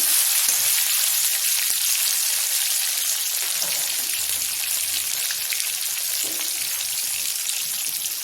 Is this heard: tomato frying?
yes